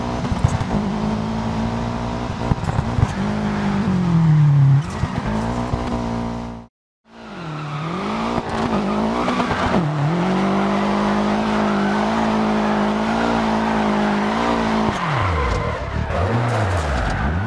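A rally car in Dirt Rally 2 snarls and skids on loose ground, engine wailing with dips and rises, tires scrabbling, a sudden brief cut to silence midway before the loud engine and sliding resume.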